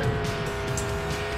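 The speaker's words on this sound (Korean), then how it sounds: "아, 차 개빨라요." A fast racing kart in the KartRider video game, its engine whining steadily at high speed with tire squeal through a corner, loud and continuous with no talk over it.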